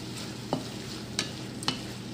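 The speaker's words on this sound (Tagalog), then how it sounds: "Ito po ay igigisa muna natin para malasa ang karne" Pork cubes sautéing in a pan, a steady sizzle of frying meat punctuated by three sharp stirring scrapes, close and alone with no voices.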